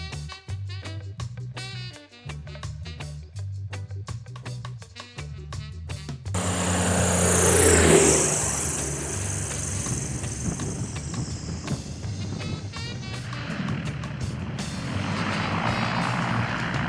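A light airplane's engine drones through a descending 270-degree turn on approach to a landing strip, first as a pulsing throb, then swelling into a loud rushing roar that settles into a steady hum, with no talk.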